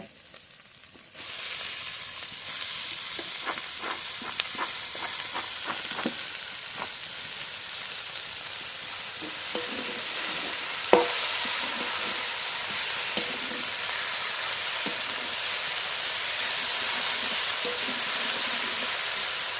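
Red amaranth leaves hit hot spiced oil in a pan with a sudden steady sizzle, followed by scraping stirs and occasional clicks of the spoon against the pan, close and continuous.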